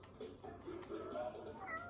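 A house cat meowing in a room, a drawn-out run of close, wavering meows lasting a couple of seconds.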